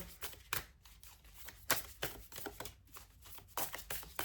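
Tarot cards are shuffled face up by hand, giving soft, quiet riffling and slapping bursts in an uneven rhythm, close by, with no voices.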